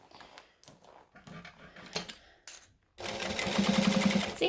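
A home sewing machine topstitches a fabric bag, first in short stuttering bursts with pauses, then a sustained fast close rattling hum to the end.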